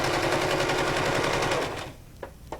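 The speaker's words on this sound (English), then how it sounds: "I'm going to just back stitch over it just to secure it a little bit better." A sewing machine back-stitches over ribbon with a fast, loud rattling run of needle strokes that stops abruptly, followed by two sharp clicks.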